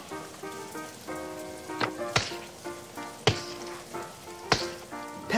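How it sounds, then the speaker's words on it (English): Rain patters in a Peppa Pig Play-Doh stop-motion scene, a soft continuous hiss broken by a few sharper drip-like plops, set against light melodic tones without any talking. "That sounds like rain, says Peppa."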